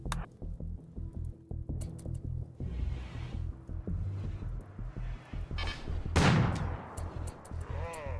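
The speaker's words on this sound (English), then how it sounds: "Honestly, probably could take a few more shots with my cannons." Cannons firing in RimWorld, a handful of quiet, spaced thuds and a louder blast near the end, mixed with other game sounds and scattered voices.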